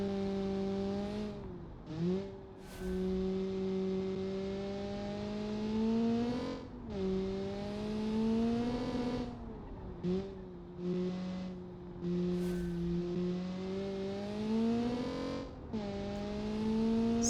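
A race car in a Le Mans racing video game, its engine screaming at high RPM with strong whining tones that climb, drop sharply at gear shifts and climb again, repeating several times.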